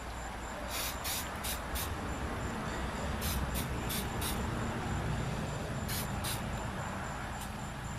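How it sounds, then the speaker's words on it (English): Several short bursts of butter-flavor cooking spray hiss in groups over a steady low background rumble, close and fairly quiet. "Using a butter flavor cooking spray."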